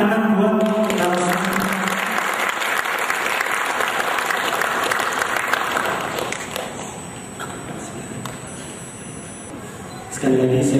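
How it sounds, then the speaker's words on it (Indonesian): An audience at an alumni gathering in Batam gives sustained applause that thins slightly toward the end, with a voice speaking faintly at the start and again at the close. "Tepuk tangan buat"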